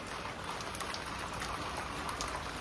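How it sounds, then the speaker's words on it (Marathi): Steady rain falls continuously outdoors, a dense even hiss of drops on surfaces with no voices. "आज सकाळपासूनच पाऊस पडतोय."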